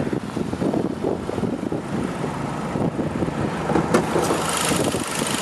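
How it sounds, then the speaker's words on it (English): A 2014 Hyundai Genesis Coupe 2.0T R-Spec's 2-liter turbocharged four-cylinder idles steadily under an open hood, a smooth continuous engine hum with light wind noise across the microphone. "This one is equipped with Hyundai's 2-liter turbocharged 4-cylinder, which is running very nice and smooth."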